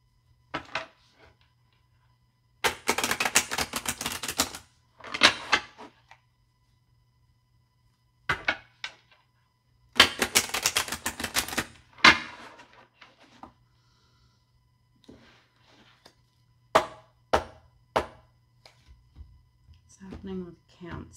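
Bursts of crisp riffling and slapping as a deck of tarot cards is shuffled several times, separated by pauses, close and fairly loud, with occasional quiet talking.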